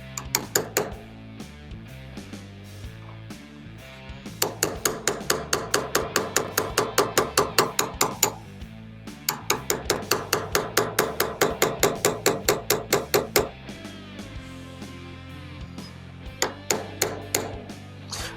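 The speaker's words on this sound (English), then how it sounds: "using a hammer and a non-marring punch and just carefully drive this into place" A hammer taps a non-marring punch to drive the safety into a Smith & Wesson CSX pistol, making sharp metallic strikes in fast even bursts of many blows separated by short pauses, close and loud with no talk.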